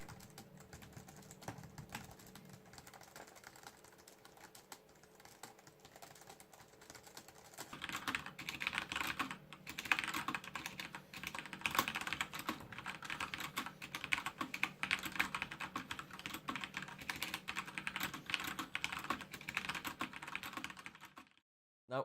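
Someone types on a mechanical keyboard in a quiet room, a steady run of clicking keystrokes that grows denser and louder partway through, with no talking.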